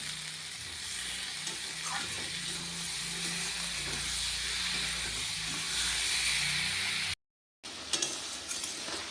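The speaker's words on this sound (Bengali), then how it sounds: "অল্প একটু জল দিলাম মশলাটা যাতে ভালোভাবে গলে যায় আর কষানোটা ঠিকঠাক হয়" A spice paste sizzles and hisses steadily in a hot pan after a splash of water is added, a dense continuous frying hiss with faint stirring scrapes, broken by a brief gap near the end.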